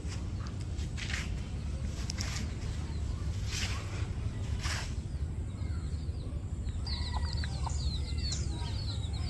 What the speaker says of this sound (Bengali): এই যে মুরগিতে বাচ্চাগুলো নিয়ে হাঁটতেছে, আর কুচি কুচি যে ঘাসগুলো আছে ওইগুলা খাইতেছে।